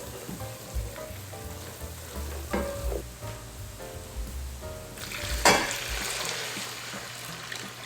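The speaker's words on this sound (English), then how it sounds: "I'm going to add the seasoning mix, and then I'm going to cook the onions until they're brown" Onions cooking with a seasoning mix in a pan for a Cajun chicken pasta, giving a steady close sizzle and crackle throughout, with occasional stirring clinks and a louder burst of spattering partway through.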